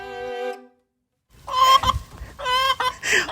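A hen in a chicken coop clucks and squawks loudly up close in several agitated bursts, with a short pause between calls and no talking.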